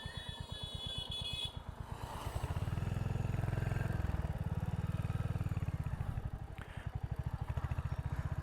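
A Royal Enfield Hunter 350cc single-cylinder motorcycle rides along in a high gear, its deep, even exhaust thump pulsing steadily up close and swelling as it pulls, then easing slightly, with no talking.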